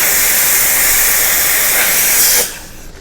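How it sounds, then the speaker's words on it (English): An espresso machine steam wand purges with a loud, steady steam hiss continuously for over two seconds, then cuts off sharply, leaving a faint residual hiss. "We start by purging our steaming one."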